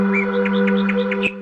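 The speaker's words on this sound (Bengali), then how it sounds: "চারিদিকে পাখির কিচিরমিচির শব্দ" Birds chirp in Swiss countryside, a quick run of bright, evenly spaced tweets over a steady low tonal drone, ending in a sharper note.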